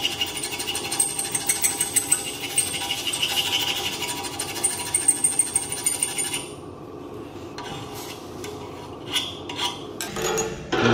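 Copper pipe being sanded flat with sandpaper to prepare it for soft soldering at a skills competition plumbing task. Rapid, gritty scraping strokes repeat close and steady for several seconds, then thin out into sparse scratches and knocks.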